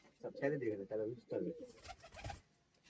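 A pigeon at a breeding loft, with a healthy young pigeon nearby, coos in three or four soft, low throaty phrases, faint and close together, then fades out.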